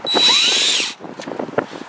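A power drill whines loudly for about a second driving into drywall, then cuts off, followed by light clicking and handling noises.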